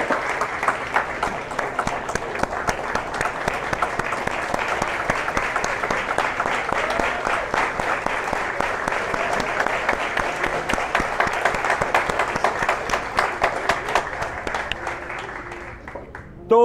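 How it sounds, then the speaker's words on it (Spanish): A crowd at a high school graduation ceremony gives a standing ovation, sustained dense clapping that holds steady for about fifteen seconds before fading slightly at the end. "estos estudiantes merecen que todos les demos un aplauso de pie"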